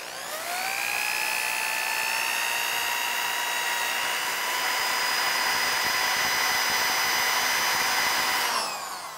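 Sandpaper held against a hollow wooden sphere spinning on a lathe gives a loud, continuous high whine and hiss that holds steady for several seconds and then stops abruptly.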